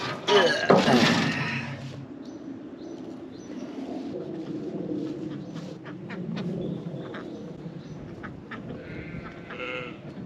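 Farm ducks quack in a noisy cluster up close at first, then keep up scattered calls over a muddy outdoor background.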